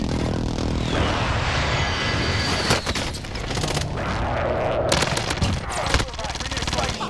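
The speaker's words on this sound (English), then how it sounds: "Friendly precision airstrike." A precision airstrike in Call of Duty Cold War Warzone, with jet aircraft roaring overhead amid rattling gunfire and blasts, loud and continuous while players talk over it.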